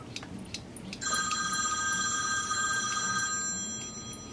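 A telephone rings with a sustained electronic trill for about two seconds, clear and moderately close, during an Axial Yeti RC model build, with faint clicks and handling noise before and after.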